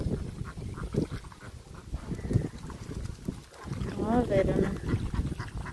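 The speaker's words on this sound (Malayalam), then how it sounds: "താറാവളെ നോക്കുക." Ducks on a Kuttanad duck farm in rural Kerala quack in scattered bursts, clearest near the end, mixed with steady outdoor noise while people talk over them.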